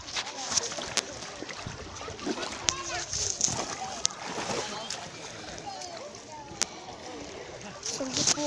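Water splashes and sloshes repeatedly as someone wades through shallow sea, with a voice chattering over the steady wash of movement.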